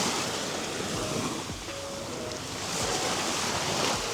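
Sea surf rolls onto the beach at Port Dickson, a broad continuous wash with gusty wind buffeting the microphone, swelling slightly toward the end.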